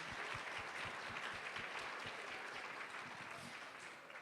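An audience at a fifth grade school arts celebration applauds steadily for a few seconds, a dense patter of clapping heard from within the room, fading slightly at the end.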